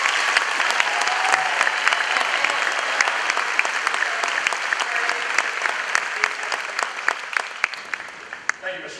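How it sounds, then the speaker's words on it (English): Audience applause fills a high school commencement ceremony hall, a steady dense clapping from a large crowd that holds for the whole stretch and thins slightly near the end. "Both of these ladies deserve the biggest round of applause"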